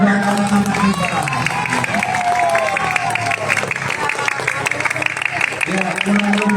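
Children and adults clap together at a National Children's Day school gathering, a loud, dense, continuous burst of applause mixed with crowd chatter and some cheering.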